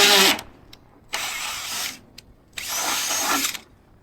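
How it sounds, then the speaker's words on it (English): A power drill whirs in three bursts while drilling holes to fit a Crary hopper extension on a combine, each revving for about a second with short pauses between, loud and close. "And we get the drill."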